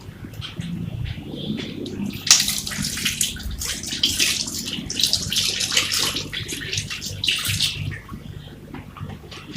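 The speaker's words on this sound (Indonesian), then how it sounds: "pertama kali saat masuk ke dalam kelas, kita diwajibkan untuk mencuci tangan terlebih dahulu" Hands washed under running tap water on entering a tutoring classroom, a continuous splashing stream with bursts of sharper spatter as hands move through the flow, fairly close, with faint background sounds.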